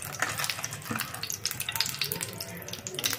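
A bay leaf and a piece of cinnamon frying in oil in a kadai give a soft, steady crackling sizzle, fairly faint and continuous throughout.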